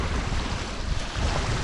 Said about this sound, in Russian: На море, друзья, опять ветер. Сильная волна, блин.